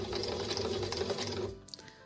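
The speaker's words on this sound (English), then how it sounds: "put the fabric underneath, bring the needle down whilst holding the back threads, release the foot and sew the first 3 or 4 stitches" A home sewing machine runs the first few stitches through fabric, a steady close whirring rattle for about a second and a half before it stops abruptly.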